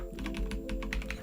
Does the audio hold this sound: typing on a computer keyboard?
yes